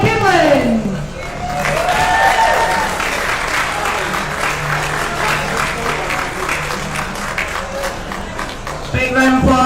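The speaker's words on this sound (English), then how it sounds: "Big round of applause for Kelly" Applause and scattered cheers from a crowd at a Masters Open weightlifting competition, greeting a gold-winning lifter, sustained and fairly loud throughout, with a voice talking over the clapping.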